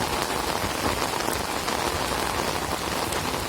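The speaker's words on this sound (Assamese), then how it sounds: "বৰষুণ বৰষুণ বহুত বৰষুণ, বানপানী হৈ গৈছে।" Heavy rain pours down during a village flood in Assam, a dense, steady hiss of drops striking water and surfaces, close and loud throughout with no voices.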